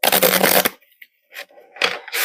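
Tarot cards riffle and flutter in a quick close burst as they are shuffled, then softer scattered flicks and taps follow after a short pause.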